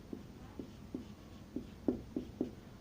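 Pen or marker writing an equation on a board during an economics lecture, a series of short scratchy strokes in an uneven rhythm, close and moderately loud over a faint room hum with no talking.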